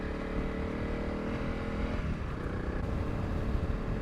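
A Honda CRF 300 Rally motorcycle engine holds steady high revs on a rough rocky trail, a loud continuous drone close by with no talk.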